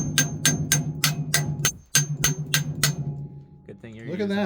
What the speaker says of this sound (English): You hit it with a hammer.